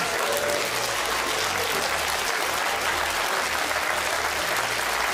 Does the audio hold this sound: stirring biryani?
no